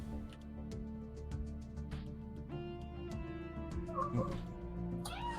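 A house cat meows a couple of times, faint and brief, under the music and clicks of a Stellaris strategy game session.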